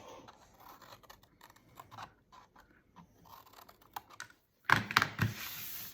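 Scissors snip through the cardboard tabs of a three-wick candle box, giving a few soft quiet cuts followed by a sharper, louder burst of crisp snipping and crunching near the end.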